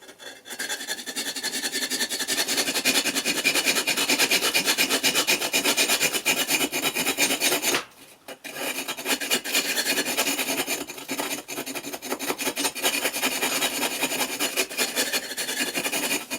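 A saw rasps continuously through a kiln's soft insulating brick wall in steady back-and-forth strokes, loud and close, with a short pause partway through before the cutting resumes.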